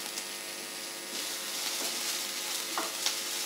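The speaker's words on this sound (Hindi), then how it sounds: "अब इसके अंदर हम शिमला मिर्च ऐड करेंगे" Onion and capsicum frying in a pan, a close continuous sizzle with occasional soft stirring scrapes, heard alone.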